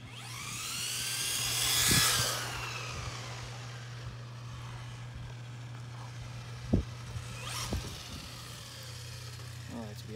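A Traxxas 4Tec 2.0 RC car with a Ford GT body makes a drag run, its electric motor whining up to a loud high-pitched rise and Doppler sweep, then fading; a few clicks and bumps follow.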